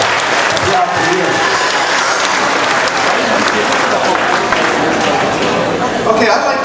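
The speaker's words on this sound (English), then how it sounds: "Let's give all the parents and 4-H leaders and FFA advisors a big round of applause for all of their work throughout the year." A large audience at a 4-H and FFA event claps for parents, leaders and advisors, a loud, dense, continuous applause filling the room with some crowd noise.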